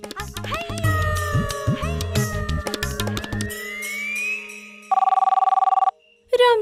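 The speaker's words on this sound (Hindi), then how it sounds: "कम्मो को ही फोन करके पूछती हूँ" A telephone rings with a steady electronic tone for about a second near the end, following a stretch of music and a brief speaking voice.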